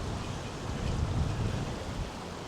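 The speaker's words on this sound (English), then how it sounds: "You can see the wind blowing off the Delaware River here." Wind gusts off the Delaware River buffet the microphone near the Battleship New Jersey, a broad roaring rumble that swells slightly midway, heard alone without speech.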